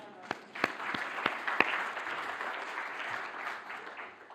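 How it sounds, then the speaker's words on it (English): Symposium audience at a closing plenary claps, a moderate, somewhat distant patter of applause with a few sharp individual claps near the start, mixed with murmured voices. "Applause to everybody."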